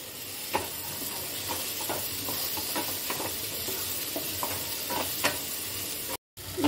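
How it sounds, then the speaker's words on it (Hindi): Potatoes frying with spices and chana dal masala in a pan, a continuous sizzle broken by repeated scraping stirs at an uneven rhythm, close up, ending in a brief dropout. "इस टाइम मैं डाल दूंगी आलू, इसको भी मैं इसके साथ भून लूंगी अच्छे से"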